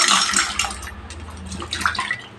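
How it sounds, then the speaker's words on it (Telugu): Red chillies being washed by hand in water, with close, steady splashing and sloshing that swells and fades over a couple of seconds; no one speaks. "మిర్చి మంచిగా కడుక్కోవాలండి, నీట్గా, చాలా నీట్గా కడుక్కోవాలి."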